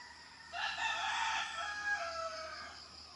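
Chickens in a poultry house give a burst of clucking and crowing-like calls. The sound is moderately loud and keeps going for a few seconds after a quiet start, with no talking.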